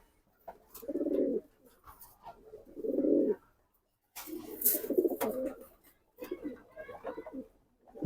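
Pigeons cooing close by in repeated low, throaty bursts separated by short pauses, with a brief rustle of wings partway through.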